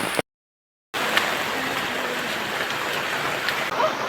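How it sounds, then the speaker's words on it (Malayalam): Heavy rain pours down in a dense, steady hiss of drops striking surfaces nearby, with water running underneath. The rain cuts out completely for a moment near the start, then continues unbroken and fairly loud. "നല്ല മഴയാണ് അമ്മ, അടിപൊളി മഴ"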